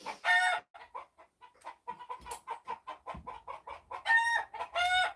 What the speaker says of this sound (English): That is the noise they make when he's a predator, because the dog is chasing off one of the chickens.